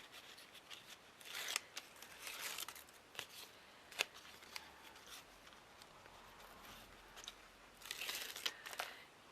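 Backing paper peeled off an adhesive sheet while making a shadow box, heard as quiet papery crinkles and tearing rustles in bursts, with several sharp ticks scattered through a soft, close-up handling sound and no talk.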